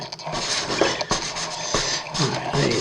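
Sanding paper rubs over a small plastic part of a 1/200 Trumpeter HMS Hood model ship, giving close, quick scratchy strokes in short irregular bursts.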